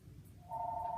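A phone starts ringing partway through, a thin steady electronic tone that sits faintly over low room noise and lasts for about the final half second.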